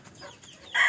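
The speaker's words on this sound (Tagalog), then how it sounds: "So ito naman yung ating mga mga inahin." Rhode Island Red and Black Australorp hens in a rooftop cage give short, close clucks over about a second, rising into a louder squawk at the end.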